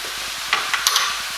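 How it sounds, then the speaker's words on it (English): Brussels sprouts, pancetta and pine nuts stirred in melting butter in a pan, with a steady sizzle and a few soft scraping strokes close by. "just give that a stir and work around, making sure the butter melts all the way through"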